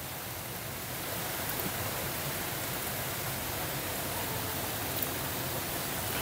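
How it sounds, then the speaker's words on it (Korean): A mountain valley stream flows in a steady, even rush of water, continuous and moderately faint throughout, with no voices. "여기 진짜 물소리, 계곡소리 참 좋네."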